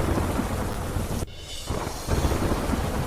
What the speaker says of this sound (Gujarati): વીજળીના કડાકા ભડાકા સાથે વરસાદ